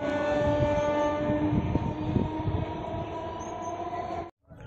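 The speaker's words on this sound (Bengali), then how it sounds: "খড়গপুর জংশন থেকে 8:45 মেদিনীপুর থেকে হাওড়াগামী লোকাল ট্রেন ধরে রওনা দিলাম খিরাইয়ের দিকে" Local train running from Medinipur toward Howrah, a steady loud rumble of wheels and carriages with clattering and rattling over the tracks, cut off near the end.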